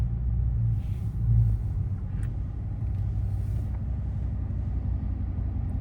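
A Dodge Scat Pack driving on a snowy road gives a steady low engine rumble from inside the cabin, with a brief swell partway through and no talk.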